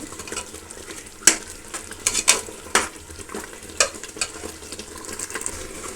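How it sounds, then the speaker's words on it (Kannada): Steady sizzle of food frying in oil, with scattered sharp clinks and scrapes of a utensil stirring against the pan. "ಇದು ಒಂದು ಐದು ನಿಮಿಷ ಹೀಗೆ ಎಣ್ಣೆಯಲ್ಲಿ ಫ್ರೈ ಮಾಡ್ಕೊಳ್ಬೇಕು"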